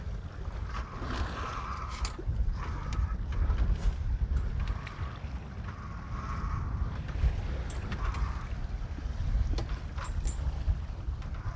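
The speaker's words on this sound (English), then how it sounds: "That noise is the autopilot." A small autopilot motor whirs in short repeated bursts aboard a sailboat under sail without engine in the Gulf of Mexico, over steady wind and water noise.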